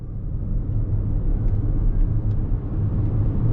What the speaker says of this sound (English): We're gonna go ahead and go on throttle.